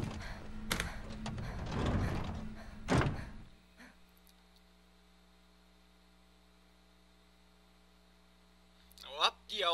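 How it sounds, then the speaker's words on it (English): Elevator in the video game ZombiU, loud mechanical thunks and a heavy door-like clatter at first, then a steady low hum as it travels, with a brief clank near the end. "up the elevator we go"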